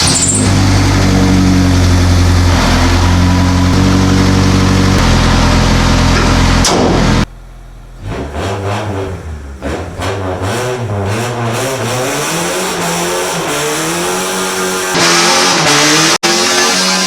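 A lifted Honda Civic's engine revs hard and loud with an open differential letting one wheel spin, a sustained roar that drops off briefly before climbing through rising and falling revs again.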